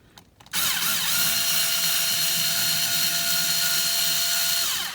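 A powered ratchet spins out screws while rock sliders are being removed. A sudden, loud, steady mechanical whir starts after a brief quiet moment and holds evenly, close up, for several seconds.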